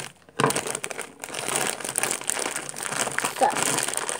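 A chocolate wrapper being cut open, with close crinkling and crumpling of plastic packaging that runs almost continuously after a brief quiet start, with a voice speaking partly over it.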